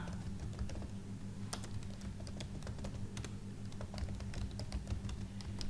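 Typing on a computer keyboard while filling in a table in Word, pressing Tab to move between cells; quiet, irregular key clicks patter close by over faint room hum, with no talking.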